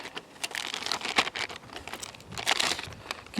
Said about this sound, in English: got a plastic bag